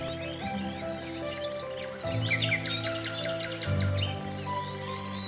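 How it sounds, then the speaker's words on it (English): Flock of parrots calling at a riverbank clay lick in the Congo jungle, a dense chorus of chirps and squawks over a steady background hum, continuous and fairly close. "massive flocks of hundreds of parrots descend from the high canopy to riverbank clay licks, congregating to ingest mineral-rich soil"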